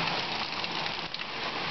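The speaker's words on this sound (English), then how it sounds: "We're having a torrential downpour." Torrential downpour pours steadily in a dense, constant hiss of heavy rain, close and unbroken for the short stretch with no voices.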